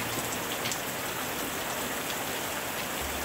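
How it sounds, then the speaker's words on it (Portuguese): Steady rain falls in a dense, even hiss of drops on surfaces, constant and fairly close with no pauses or voices. "O som da chuva é como um cobertor de tranquilidade"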